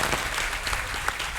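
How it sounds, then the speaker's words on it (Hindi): An audience claps at an event at Netaji Indoor Stadium, a short burst of dense, steady applause filling the whole moment with no voices over it. "तालियां तालियां तालियां।"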